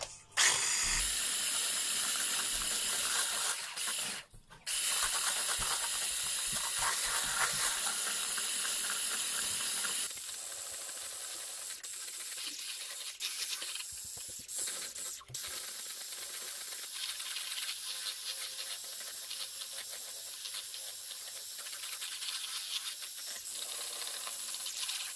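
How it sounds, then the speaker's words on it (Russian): A homemade ice cream mixture is whisked with a steady, close whirring that runs continuously, louder for the first ten seconds and then settling to a quieter, even hum. "Мы взбиваем 4-5 минут,"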